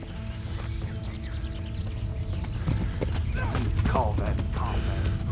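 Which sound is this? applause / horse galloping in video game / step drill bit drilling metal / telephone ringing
horse galloping in video game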